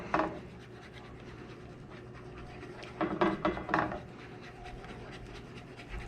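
Eggs being scrambled at very low heat with long, fine-pointed cooking chopsticks, giving soft scraping and stirring strokes that cluster near the middle of the stretch over a steady background hum.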